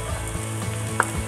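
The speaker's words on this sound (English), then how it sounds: "Now I'm going to add chopped garlic." Chopped garlic sizzles with onion in a hot pan for black bean tortilla soup, a brief steady frying crackle with a small clink partway through, close and alone.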